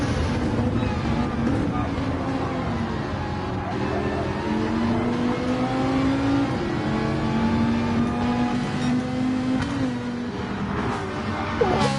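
Racing car engines in a Gran Turismo race including a fast Ferrari, a continuous loud droning whine rising and holding in pitch as cars accelerate down a straight, with commentary talking over it throughout.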